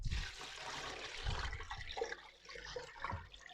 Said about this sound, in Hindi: 2 किलो मैं पानी इसमें ऐड कर दूँगी।